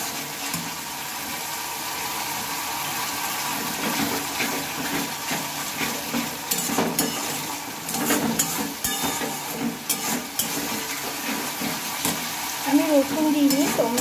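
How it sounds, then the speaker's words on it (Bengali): Masala spice paste is stir-fried in a pan, with a steady sizzle broken by repeated scraping and stirring strokes that come and go, close and fairly loud. "এবার এই মশলাটা আমি ভালোভাবে কষিয়ে নেব।"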